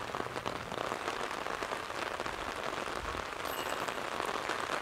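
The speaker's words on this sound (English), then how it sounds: "The wind and rain is picking up and only getting worse and worse by the minute." Steady rain pours down across an outdoor disc golf course during a windy final round, a dense continuous hiss of drops on surfaces with no voices.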